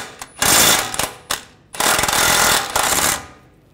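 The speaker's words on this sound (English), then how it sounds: "Just use a 24 millimeter socket, take that nut off" A 24 millimeter socket on a power tool spins off a nut from the front lower control arm of a 2009-2010 BMW 5 Series, heard as several loud, rattling bursts of varying length with short pauses between them.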